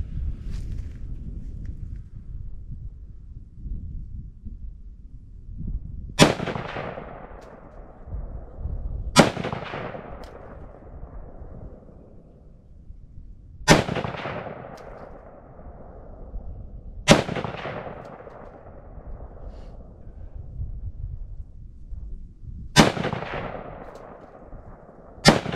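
.44 Magnum revolver fired at a target about 100 yards away outdoors: five loud, sharp shots spaced several seconds apart, each with a long decaying echo, over steady low background noise and no talking.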